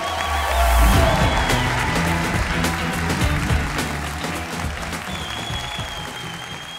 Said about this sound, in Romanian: Aplauze gălăgie pentru al patrulea concurent